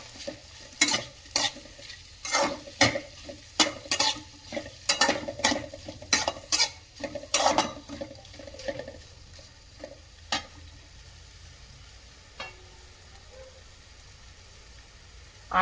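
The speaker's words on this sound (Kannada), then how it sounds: "ಪನ್ನೀರ್ನ ಹಾಕ್ತೀನಿ ಇದೇ ಸಂದರ್ಭದಲ್ಲಿ. ತುಪ್ಪದಲ್ಲಿ ಹುರ್ಕೊಳ್ತೀನಿ," Paneer pieces frying in ghee and oil, with a run of quick, clattering stirs and scrapes against the pan over a soft sizzle, the stirring thinning out toward the end.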